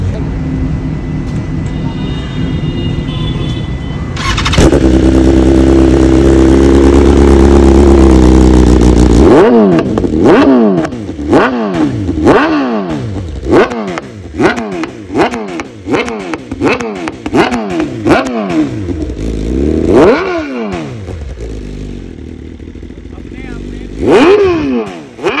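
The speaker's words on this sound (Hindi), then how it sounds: "अब एक बार इसको हम बाइक को स्टार्ट करेंगे एंड आपको एक बार सुनाएंगे इसका" A BMW S1000 RR motorcycle with an Akrapovic exhaust starts, settles into a loud idle, then is revved hard in repeated sharp blips, close and loud, with people talking throughout.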